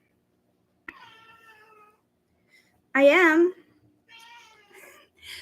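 A pet cat meows close to the microphone, a short cry followed by a loud, wavering yowl and a few softer meows, with brief speech in between during a quiet indoor live stream.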